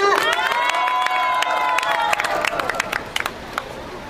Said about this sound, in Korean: 큰 박수를 모시겠습니다.